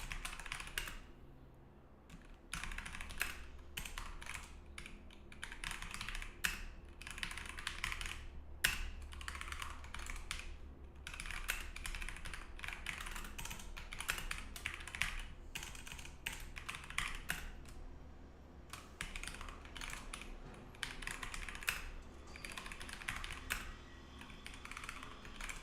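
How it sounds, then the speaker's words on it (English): Fingers typing code on a computer keyboard at a desk, steady clattering keystrokes in quick irregular runs with short pauses, close and clear over faint room hum, no voices. "Just a lot of type for the moment."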